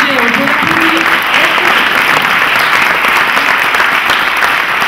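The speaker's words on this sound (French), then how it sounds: "On peut l'applaudir." An audience at an opening evening event claps steadily and loudly for about five seconds in dense, even applause, with a voice speaking briefly at the start.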